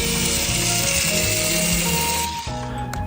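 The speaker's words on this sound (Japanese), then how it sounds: "魚を少し起こし、尾から頭に向かって鱗を取っていきます。" Cordless electric fish scaler running in reverse rotation, scraping scales from a fish from tail to head, a steady close whirring motor with grinding scrape that cuts out briefly near the end, then resumes.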